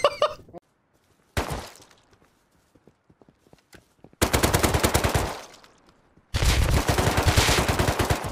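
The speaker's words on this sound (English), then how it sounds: "He's shooting at the base" Rapid automatic gunfire at a base in the survival game Rust, heard as a couple of short early bursts followed by two long, loud sustained volleys of fast, evenly spaced shots separated by near-silence.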